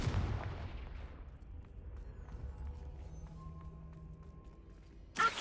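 Fiery Confringo spell blasts in the video game Hogwarts Legacy: a loud burst at the start rumbles and fades over about a second and a half into quieter game ambience, then another sharp hit lands at the very end.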